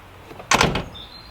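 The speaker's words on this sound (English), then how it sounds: "both doors aren't shutting smoothly" A door on a Volkswagen Mark 1 Caddy truck shuts with one short, fairly close clunk that dies away quickly.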